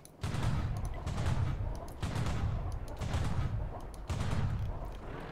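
Low, rumbling artillery blasts from World of Tanks arrive in four heavy booming waves, each swelling and lingering with a distant, muffled roll.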